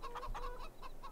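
Chickens cluck in a farm coop in Farming Simulator 22, a series of short, fairly close clucks in an uneven rhythm with no speech over them.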